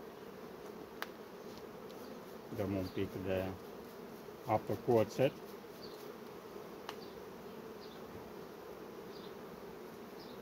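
Honey bees buzz around an open hive during a beekeeper's inspection, a low steady drone beneath a person speaking nearby.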